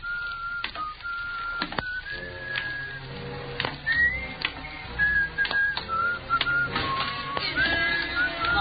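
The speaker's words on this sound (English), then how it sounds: "You still remember my whistle" A man whistles a short wavering tune in an old-time radio drama, thin clear notes rising and sliding over a steady background hiss and scattered clicks, with no talking.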